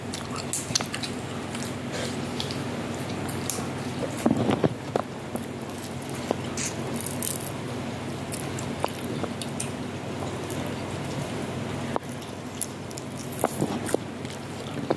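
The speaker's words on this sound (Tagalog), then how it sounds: "Masarap tong apple na ito. Maliit siya pero crunchy." Crisp bites and chewing of a small, crunchy Gala apple, close to the mic, with irregular crunches and soft mouth sounds and no talking.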